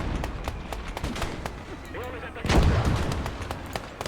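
Gunfire in the World War II video game Motherland, with scattered sharp shots and one heavier blast close to the middle, all playing under ongoing background noise.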